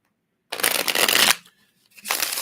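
Tarot cards riffle-shuffled in two bursts, a loud crisp flutter of about a second, a short pause, then another shuffle starting, close by with no talking.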